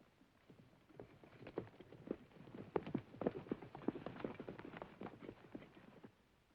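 Horse hooves clip-clop in a quick, uneven patter on hard ground in an old 1941 western film, several horses moving together at moderate distance with no talk.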